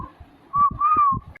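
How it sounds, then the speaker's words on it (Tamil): A person whistles a short, wavering tune at close range, the melody sliding up and holding over a few notes, with soft low thumps underneath and no talking. "விசில் அடிச்சிட்டு இருக்கீங்க"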